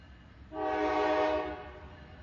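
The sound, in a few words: train sound in film trailer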